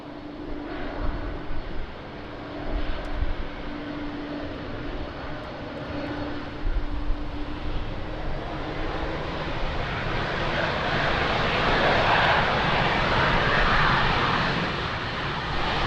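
A fixed-wing airliner lands at Lisbon Airport in rainy weather, its engine roar broad and steady, swelling louder and closer toward the end over a constant wash of rain.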